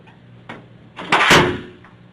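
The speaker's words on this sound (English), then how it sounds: "you close the door, please?" A door swings shut at close range with a soft click, then a louder whooshing thud as it closes, followed by a brief fading rattle.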